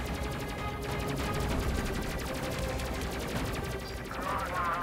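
Missiles firing and hitting in the space game Space Crew come as a dense, steady rattle of rapid-fire shots and impacts, loud and continuous throughout with no pauses.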